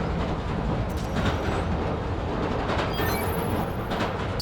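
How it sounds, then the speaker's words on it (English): A subway train in the Spider-Man: Miles Morales video game rumbles and clatters past, a dense continuous roar of wheels on rails with faint metallic squeals, loud and close throughout, with no talking. "Hearing the clatter of the wheels, the squealing when the trains turn or stop"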